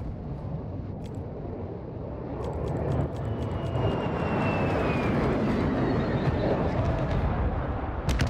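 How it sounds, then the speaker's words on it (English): A gunship aircraft circles overhead in Call of Duty Modern Warfare 2 multiplayer, a steady droning engine roar that swells after a few seconds and holds, with brief clicks and faint game effects scattered on top. "Gunship is orbiting the AO."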